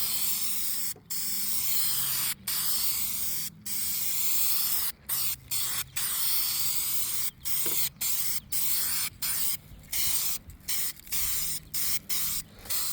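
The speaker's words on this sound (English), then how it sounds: "Towel's not really a good place to spray paint." A spray paint can hisses in repeated bursts onto a towel, short and long, separated by brief pauses, fairly close and quiet overall, outdoors during a gas grill restoration.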